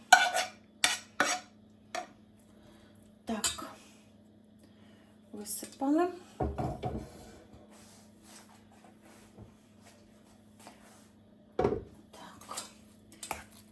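Fried mince with onion and carrot is stirred in a pot, with intermittent spoon scrapes and clinks against the metal separated by quiet gaps, plus a low hum and some soft breathy sounds nearby.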